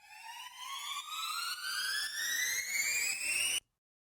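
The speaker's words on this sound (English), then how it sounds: "I'm just going to take this downlifter, reverse it, and fade it." A reversed, faded downlifter effect for music production: a bright, harmonically rich synthetic tone sweeps steadily upward in pitch, swelling in level over about three and a half seconds before cutting off abruptly into silence.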